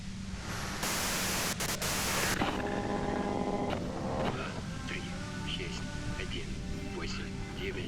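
Hiss of white noise static in the video game Disco Elysium, a loud broadband burst lasting about a second and a half, followed by a low hum and faint tonal sounds.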